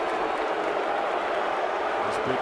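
Big baseball crowd at a Toronto Blue Jays home game against the Boston Red Sox, a steady broad roar of noise and scattered clapping sustained throughout, loud and even with no pauses.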